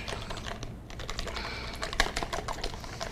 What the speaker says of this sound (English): I'm going to whisk that all together